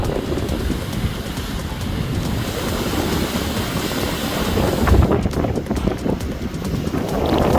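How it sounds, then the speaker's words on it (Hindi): Strong cyclone winds from Cyclone Asani batter the Kakinada coast, heard as a loud, continuous roar of gusting wind buffeting the microphone, with a rumble of surf beneath that swells slightly toward the end. "काकीनाडा में चक्रवाती असानी के प्रभाव से तेज हवाएं चल रही हैं।"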